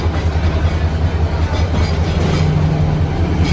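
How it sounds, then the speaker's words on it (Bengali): Two trains enter a railway station, rumbling steadily with a low, heavy drone and faint rhythmic rattling, loud and close throughout. "এখানে প্রবেশ করছে একসাথে দুটো ট্রেন দেখার মজাই আলাদা"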